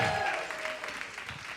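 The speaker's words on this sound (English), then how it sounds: "Everybody clap for Riley." A short burst of applause from a small church group, fading slightly over a second and a half, with a faint tone at the start.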